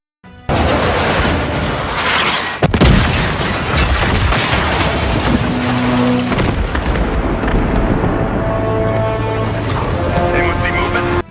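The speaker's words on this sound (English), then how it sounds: "They decide the only way to stop it is to blow up the Brooklyn Bridge using an airstrike" An airstrike explosion destroys the Brooklyn Bridge in the Battlefield 6 video game, a sudden loud boom that then swells into a long, heavy roar of blast and debris mixed with dramatic score.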